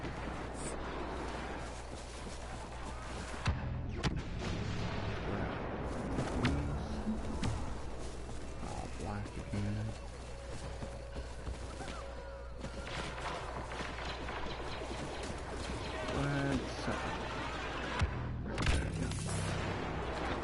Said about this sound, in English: And the explosion out of